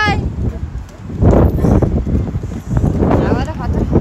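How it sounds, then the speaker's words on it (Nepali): Strong wind blows near London Bridge, buffeting the microphone in loud, gusty rushes that swell and ease over a few seconds, with people talking underneath. "हावाले लडाउला है मिहाङ"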